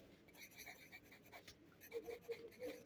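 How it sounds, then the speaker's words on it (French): Quiet handwriting with pen or pencil on paper, faint short scratching strokes in a soft, close, otherwise hushed room. "Donc, je vais écrire."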